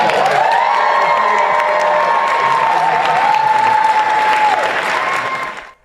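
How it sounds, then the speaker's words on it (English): An audience breaks into loud applause with cheering and whoops, a sustained dense roar of clapping for several seconds that cuts off abruptly at the end. "Give them all a big round of applause"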